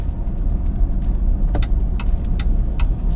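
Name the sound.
hybrid car driving in EV mode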